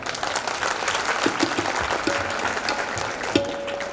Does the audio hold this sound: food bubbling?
no